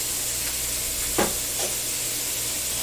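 Food browns quietly in a frying pan, a soft steady sizzle with a couple of brief stirring scrapes.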